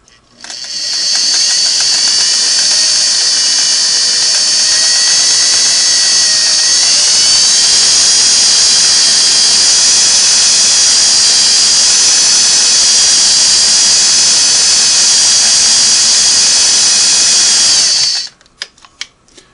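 A Sweetness 401A sewing machine stitches fabric in one loud, steady high whir that runs for about seventeen seconds, then stops abruptly.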